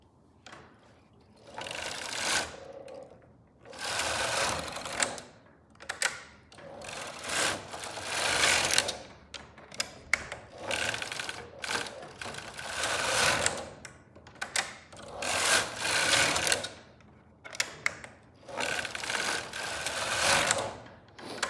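A Silver Reed knitting machine carriage is pushed back and forth tucking and knitting rows, giving repeated loud mechanical clattering passes of about two seconds each, separated by brief pauses.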